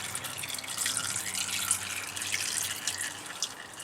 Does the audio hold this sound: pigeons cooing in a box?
no